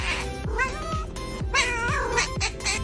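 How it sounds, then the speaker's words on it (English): A cat meows repeatedly, several drawn-out, wavering cries close to the listener, with short pauses between them. "That meow just healed my whole nervous system."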